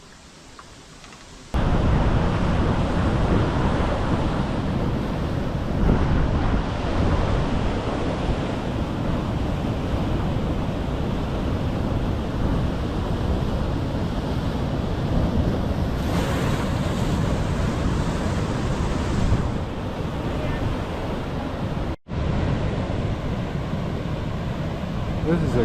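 Continuous roaring high surf crashing at a Kauai beach in winter, loud and broadband with heavy wind buffeting the microphone, steady throughout with a brief dropout near the end.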